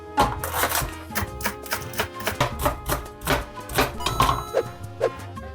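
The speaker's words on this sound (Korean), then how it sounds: "먼저 버섯 두 종류 썰어주도록 할게요" A knife chops mushrooms steadily on a cutting board, a series of quick, close thuds in an uneven rhythm, with no talking.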